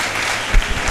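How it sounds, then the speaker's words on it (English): Applause from an audience at a student multiplier quiz game, a brief steady wash of clapping lasting under a second. "Give them a big hand of applause."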